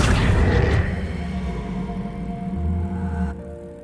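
A wizard's Accio summoning spell is cast in a video game: a loud booming burst at the start that decays into a low, humming rumble.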